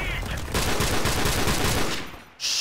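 A rapid string of M21 rifle shots rings out in a Call of Duty match, close and fairly loud, then cuts off into near silence before a brief electronic tone.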